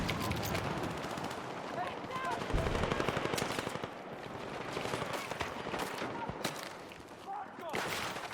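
Rapid gunfire crackles through a Battlefield 6 match in dense, repeated bursts over continuous game noise, with players talking underneath.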